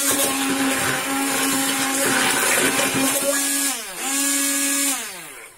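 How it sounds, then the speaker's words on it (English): An immersion blender on maximum purees a mixture with a loud, steady whirring drone that shifts in pitch near the end as the motor slows and then speeds up again before it stops. "I'm going to use my immersion blender, I think that's what it's called. I'm going to use that on maximum just to puree it up"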